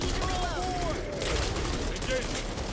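Rapid gunfire in the zombie shooter Back 4 Blood, a dense rattling barrage running the whole stretch with game sounds and whistling tones mixed in, loud and close.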